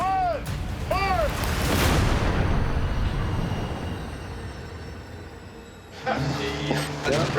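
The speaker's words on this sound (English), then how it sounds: "We had a good detonation." An explosive device detonates during bomb suit testing, a deep, loud rumbling blast that rolls on for several seconds and slowly fades, with voices heard briefly before and after it.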